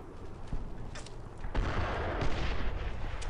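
Grenade blast and gunfire in the World War II shooter Brothers in Arms: Earned in Blood, a dense, continuous battlefield din with a heavy thump midway and sharper cracks over a steady rumble, no voices.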